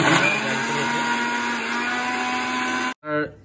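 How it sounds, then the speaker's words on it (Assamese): An electric kitchen grinder whirs loudly and steadily while grinding ginger, garlic and mustard seeds into a paste, then cuts off abruptly before a short final pulse. "এই গোটেইখিনি আপুনি গ্ৰাইণ্ড কৰি ল'লোঁ পেষ্ট এটা বনাই ল'লাক"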